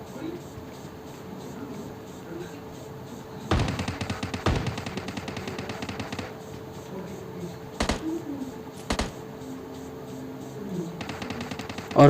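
Gunfire in the mobile shooter PUBG Mobile Lite, with an M416 rifle and 6x scope: a sustained automatic burst, a few isolated sharp shots, then another short burst at the end, over a steady low game ambience.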